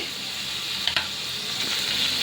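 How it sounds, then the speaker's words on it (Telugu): Cumin, mustard seeds and dried red chillies sizzling in hot oil in a pan, a steady bright hiss with a few small pops and crackles, with no talking. "ఇప్పుడు ఈ పోపులన్నీ బాగా వేపుకుందాం"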